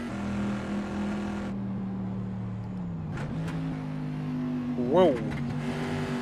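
Bizzarrini car engine in the racing game Assetto Corsa, a steady droning note that drops and then climbs again as it revs, with a brief sharp flare near the end and a man's short exclamation.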